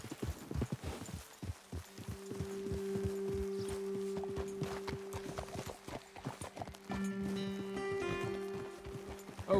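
Horse hooves clip-clop at a steady walking pace in Red Dead Redemption 2, several horses plodding together over a continuous low droning tone and soft background ambience, with no talking.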